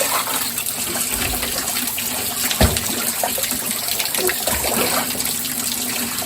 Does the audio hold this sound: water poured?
yes